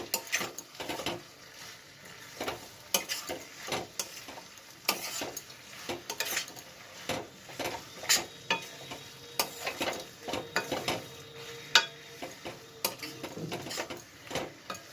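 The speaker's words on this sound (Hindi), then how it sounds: "चलिए इसको मिक्स कर लेते हैं मसाले में अच्छे से।" Prawns stirred into masala in a pan, with repeated quiet scraping and clinking strokes of a spoon against the pan under a faint sizzle, no talk.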